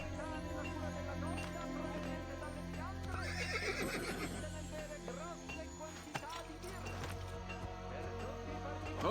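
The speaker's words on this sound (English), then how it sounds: "I grabbed a horse." Horse in Assassin's Creed Brotherhood giving a loud close whinny, with hoof clops and game ambience around it, and a short knock near the end.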